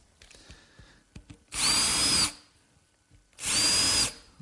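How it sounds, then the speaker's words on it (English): A power drill bores an angled pilot hole into the wooden column of a pedestal table base in a woodworking shop, with two loud, sustained whirring bursts separated by a short pause. "Just drilling a pilot hole at a slight angle."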